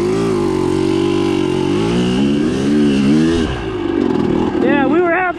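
An off-road vehicle engine idles loud and close on a cold day, then blips and revs in rising and falling surges before settling back, with a constant engine drone throughout.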